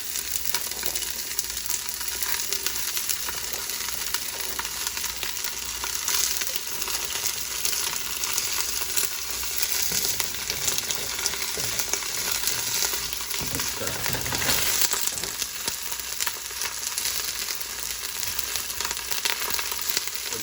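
Ingredients for a shrimp boil being stirred around in a pot, giving a steady, fairly loud broadband sizzling wash with a brief louder swirl near the middle and no talking.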